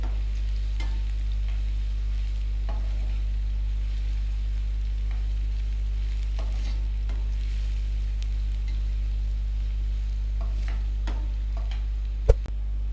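Carrots frying in oil in a pan for Kabuli pulao, a steady soft sizzle with light intermittent ticks and taps over a constant low hum, one sharper knock near the end, no voices.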